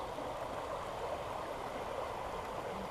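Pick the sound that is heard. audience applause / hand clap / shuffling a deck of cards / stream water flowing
stream water flowing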